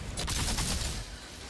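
Faint, distant gunfire in the shooter game Outriders, a muffled crackling burst of rapid shots that fades into a low rumbling background.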